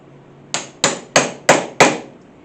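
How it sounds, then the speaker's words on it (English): A hammer strikes an old-fashioned chisel to strip bark from a live-edge bowl blank, five sharp, loud, evenly spaced knocks close by, each ringing briefly before the next. "I'm just using a regular old-fashioned chisel and a hammer, and I'm just going to get this all off"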